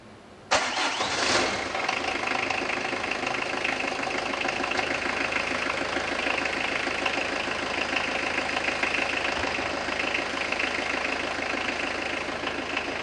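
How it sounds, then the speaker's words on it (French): A car engine cranks and catches after a timing belt replacement, then settles into a steady, loud idle that runs on evenly with a constant rumble and no talking. "Mettons le moteur en route."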